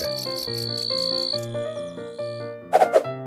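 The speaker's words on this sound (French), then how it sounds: "La plaie des sauterelles." Dense, pulsing buzzing of a locust swarm with a steady chirring rhythm, fairly close and continuous, ending with a few brief sharper bursts.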